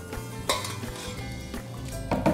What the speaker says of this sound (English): take a slotted spoon, like so. Get the rest of that onion and asparagus and garlic and what's left